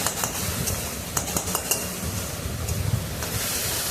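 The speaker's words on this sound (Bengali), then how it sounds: "সবজিগুলো ভালো করে ভাজা ভাজা হয়ে গেলে সবজিগুলোকে নামিয়ে নেব" Mixed vegetables frying in a small amount of oil in a pan, with a continuous soft sizzle and occasional stirring scrapes and light metallic clinks from a utensil, close and fairly loud.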